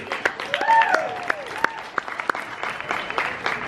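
An audience in a Walt Disney World restaurant claps for musicians Professor Tommy and Jack Bill: scattered, fairly close hand claps with a brief whistle and murmuring voices underneath.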